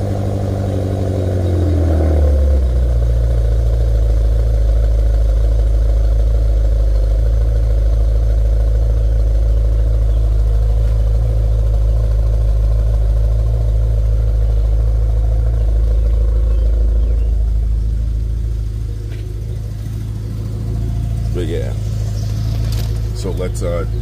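BMW E70 X5M engine settling into a cold-start idle, with a brief rev or clatter at the start, then a steady low rumble that dips slightly near the end, heard close with some talk over it.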